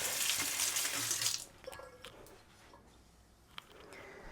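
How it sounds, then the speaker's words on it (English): A kitchen tap runs water over a knife blade in a loud, hissing burst lasting just over a second, then cuts off, leaving faint clinks and quiet room noise. "Rinse the blade off."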